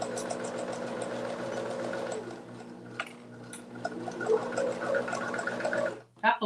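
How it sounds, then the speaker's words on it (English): A home sewing machine runs a short back stitch, a steady mechanical whir that dips in the middle and then picks back up before stopping abruptly near the end. "I'll go ahead and do a little back stitch."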